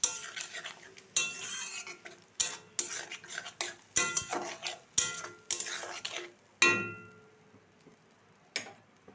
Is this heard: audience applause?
no